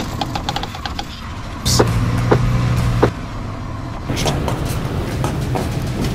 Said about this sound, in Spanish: La suspensión de tu auto se escucha así.